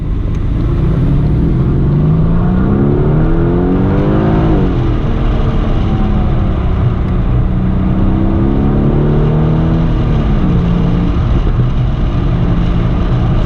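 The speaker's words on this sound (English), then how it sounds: "we're just gonna let it rip, and hopefully you can hear the engine" A 2020 Aston Martin DB11 Volante convertible accelerates hard from a stop, its engine note climbing through two long rising pulls with a brief dip between gear changes, loud and steady throughout.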